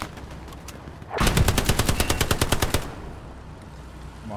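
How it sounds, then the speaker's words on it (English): Rapid automatic gunfire in the World War II shooter Hell Let Loose on a winter battlefield at Elsenborn Ridge, a loud burst of about a dozen evenly spaced shots lasting under two seconds, with quieter ambient noise before and after. "He's shooting at me now."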